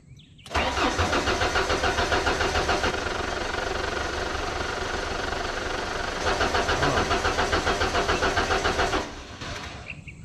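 A boom lift's small engine, freshly after a carburetor cleaning, cranks and fires, then runs at a steady loud idle with a rhythmic chugging pulse before shutting down near the end, with no voices.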